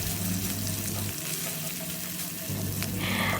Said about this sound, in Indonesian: Nah, ini aku tumis dulu biar si bumbunya ini aromanya keluar